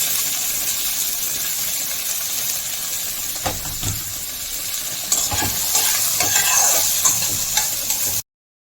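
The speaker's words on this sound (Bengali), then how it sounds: "এবার এর মধ্যে দিয়ে দিচ্ছি পেঁয়াজ, ধনেপাতা, ক্যাপসিকাম আর গাজর আর কিছুটা কাঁচা লঙ্কা।" Onion, coriander leaves, capsicum, carrot and green chilli stir-fried in a pan for chire poha: a steady loud sizzle with scraping stirs and a few clinks of the spatula, no voices.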